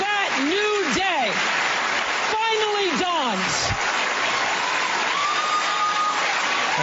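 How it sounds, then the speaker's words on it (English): Hollywood audience applauding at an awards event, a dense wash of clapping that rises and carries on after a woman's amplified speech breaks off. "This is Hollywood applauding Hollywood."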